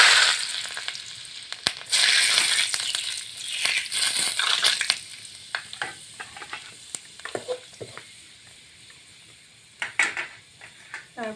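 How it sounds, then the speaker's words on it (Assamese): Fenugreek seeds sizzle in hot oil for an Assamese fish curry, with a loud hiss that fades into crackles and pops and occasional light clinks of a utensil. "এয়া প্ৰথমে মেথি গুটিকেইটা দি ল'লোঁ তেলত।"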